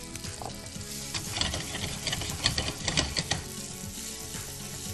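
Diced onion frying in a hot pan, a dense close sizzle with crackling and scraping stir strokes that swell in the middle, with no talk.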